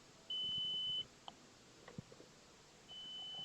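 A multimeter emits two steady continuity beeps while probing capacitors on a circuit board, the first lasting under a second and the second starting near the end, with faint clicks and handling noise between them.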